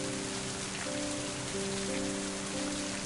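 Steady rain falls throughout a video game scene, a constant dense hiss of drops on surfaces with faint tonal hums from the game underneath, no voices.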